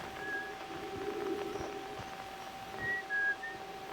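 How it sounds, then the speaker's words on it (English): Faint whistling in the video game Outer Wilds, a few short high tones drifting over a soft ambient background, with no talking. "Oh, I hear whistling."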